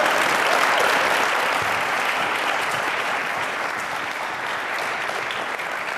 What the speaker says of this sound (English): let's also give these candidates a round of applause for stepping up and offering to take on the challenge of leading Little Rock